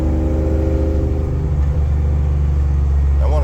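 Ford EFI 460 V8 with upgraded intake, throttle body, air cleaner and injectors idles with a steady, loud low rumble and faint whir, continuous and unbroken without talk.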